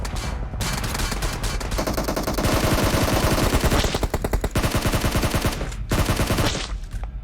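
Sustained automatic gunfire from the PUBG Mobile shooting game, loud and close, with rapid bursts running almost without pause and a couple of brief gaps.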